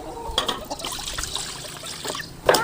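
Water poured from a vessel into a cooking pot while fenugreek milk sweet is prepared, heard as a soft, close trickle and splash lasting a couple of seconds, with a slightly louder splash near the end.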